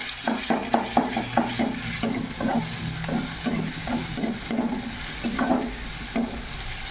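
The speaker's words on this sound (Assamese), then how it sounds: "আদা নহৰু পেষ্টখন এতিয়া ভাজি ল'ম।" Onion with ginger-garlic paste frying in hot oil in a kadhai, a continuous close sizzle broken by repeated rhythmic scrapes and clinks of a spatula stirring against the pan, with no one talking.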